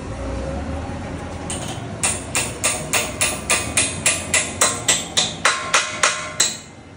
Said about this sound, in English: You then have to do the hammer test.